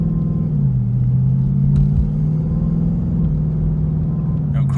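Supercharged, Whipple-equipped 2018 Ford Mustang GT pulling away from a stop, a loud, steady low engine rumble with a slight pitch shift as it gets moving, heard from inside the car.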